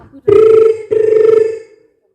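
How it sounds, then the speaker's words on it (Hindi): A telephone rings twice, each loud electronic ring lasting roughly half a second with a short gap between them, then stops, leaving silence. "उसके पास एक फोन कॉल आया।"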